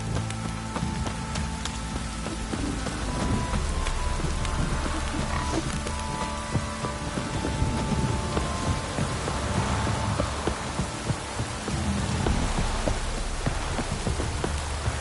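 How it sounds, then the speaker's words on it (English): Heavy rain pours down in The Witcher 3 video game as a dense, continuous hiss with patter on surfaces. It stays steady and loud throughout, with no voices. "This downpour's a bastard, it is."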